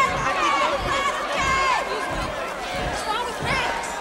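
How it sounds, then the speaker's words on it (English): A large crowd chatters and cheers at a lively public event, a dense, steady wash of many voices with rising shouts, close and loud throughout, with a few nearer voices rising above it. "Listen to this crowd. They love me."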